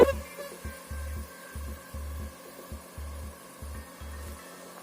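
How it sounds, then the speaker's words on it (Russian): A swarm of chironomid midges on a mountaintop above the Dniester River buzzes in a low, pulsing drone, rising and falling in short repeated bursts, close and fairly quiet. "Вот они, тысячи, миллионы комары-звонцы."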